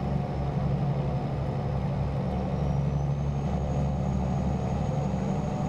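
A heavy truck engine in American Truck Simulator pulls steadily in top gear with an Eaton-style shifter, a loud, close, constant low drone with a faint rising whine and no talk.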